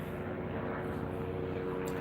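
A helicopter flies overhead during an outdoor evening livestream, heard as a faint, steady, droning rumble of engine and rotor noise throughout, with no distinct blade chop and no speech over it.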